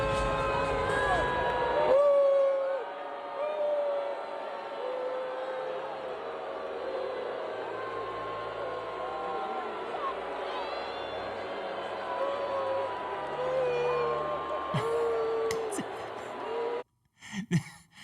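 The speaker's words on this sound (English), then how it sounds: "here's more sound of the booing on this side here" Crowd noise from thousands of spectators at an NFL game, a sustained roar of booing and shouting that carries on steadily from a distance before cutting off abruptly near the end.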